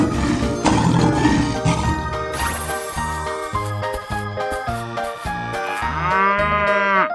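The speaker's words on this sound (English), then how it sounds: "Cow." A cartoon cow in a 3D animal slide video game lets out a long, loud moo over bright game music with tinkling chimes, followed by a rising musical flourish.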